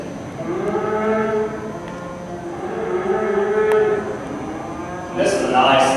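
A Dexter heifer at a cattle show lets out long, deep moos one after another, loud and close, with a higher call rising at the end over steady arena background noise.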